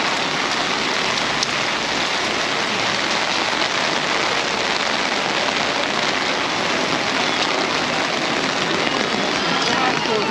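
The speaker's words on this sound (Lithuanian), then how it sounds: "Visą dieną turėtų lyt taip." Steady rain falls in Sicily, a dense, constant hiss of drops hitting surfaces that stays loud and unbroken throughout, with no pauses.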